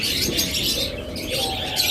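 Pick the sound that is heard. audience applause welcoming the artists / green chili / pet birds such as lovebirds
pet birds such as lovebirds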